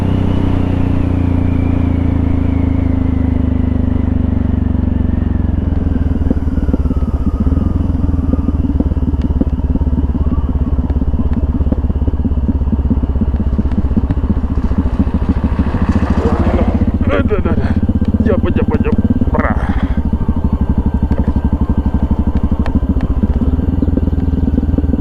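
A motorcycle being ridden, its engine a loud continuous drone with wind rush throughout, pitch shifting as it accelerates, while a rider talks over it.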